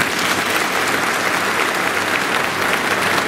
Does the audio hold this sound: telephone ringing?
no